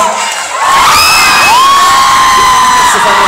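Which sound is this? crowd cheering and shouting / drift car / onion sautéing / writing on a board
crowd cheering and shouting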